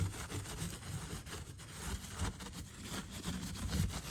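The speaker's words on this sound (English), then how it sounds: "it's a nice fine steel wool, so it's not going to actually scratch the chrome" Fine steel wool scrubbed hard against rusty chrome on a beach cruiser bicycle, a close, loud, continuous rasping rub in quick back-and-forth strokes.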